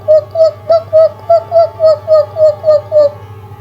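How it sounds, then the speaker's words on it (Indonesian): A bird on a mountain trail calls close by and clearly, with about a dozen evenly spaced cooing notes in a steady rhythm over a low background hum. "suaranya terdengar seperti suara burung"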